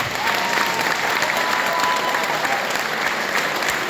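Applause for a graduating class of 2025 at a church ceremony, a dense steady wash of many hands clapping that holds at even loudness throughout.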